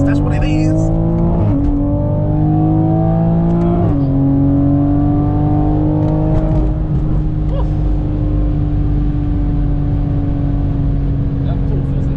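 A Toyota Supra racing along a Mexican highway, its engine a loud, close, continuous drone that climbs in pitch through three quick upshifts early on, then holds a steady high-speed roar with wind and road noise, with speech mixed in.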